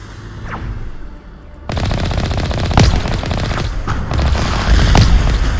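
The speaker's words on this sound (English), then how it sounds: "the goddamn rocket goes through the structure" A rocket explosion in the video game Mass Effect, with several loud sharp blasts and gunfire-like bursts following a quieter start, over continuous battle noise.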